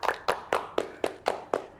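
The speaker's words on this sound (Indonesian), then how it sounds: "Boleh tepuk tangan." Seven sharp, evenly spaced claps ring out at a steady pace, a single pair of hands clapping close by at an event with no voices over them.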